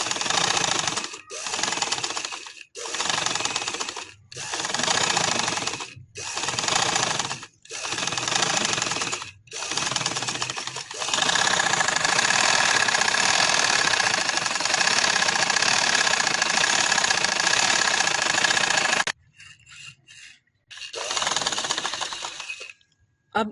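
A sewing machine stitches a flower pillow cover in repeated short runs, each about a second long with brief pauses between, then one longer continuous run before it stops and gives a final short burst.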